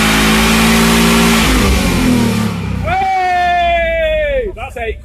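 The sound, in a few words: Mini car engine revving, wheels spinning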